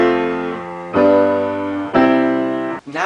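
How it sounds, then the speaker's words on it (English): Sustained block chords played in a four-chord progression, tonic, predominant on scale degree four, dominant, back to tonic, each change sharply attacked and held about a second, clear and close with no voices. "a chord progression with scale degree 4 as the predominant sounds like this"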